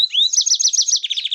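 A canary gives a quick rising call, then a rapid run of bright, rhythmic chirps near and clear, with no voices, beside a wooden trap cage baited with millet.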